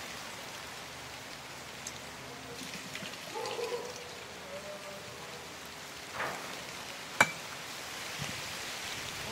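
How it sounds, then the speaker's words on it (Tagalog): Rain falls steadily and softly outdoors in Martinique, a faint even hiss throughout with a few louder drops and brief knocks over it. "Ulan na!"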